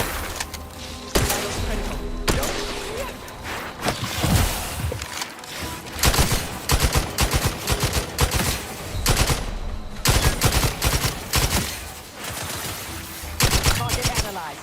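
Rapid bursts of gunfire in the video game The Outer Worlds, with clustered automatic shots and sharp cracks repeating in volleys across the stretch, loud and close, with short gaps between bursts.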